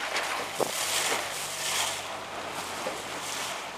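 Sailboat coming about in a training session, with steady broadband wind rush and water washing against the hull throughout, a few brief knocks and splashes, no talk.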